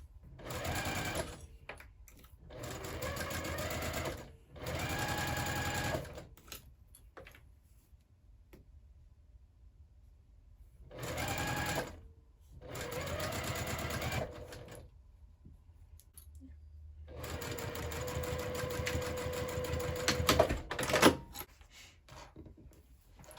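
Sewing machine stitching along a zipper edge on a Divina handbag, several separate runs of fast, even needle chatter broken by silent pauses, close and clear, the last run the longest.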